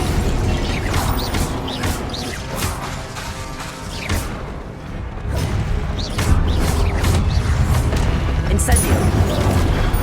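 Repeated spell blasts and crackling magical impacts during combat in Hogwarts Legacy, including the Incendio fire spell, loud and layered with booms and bursts while a voice calls out between casts.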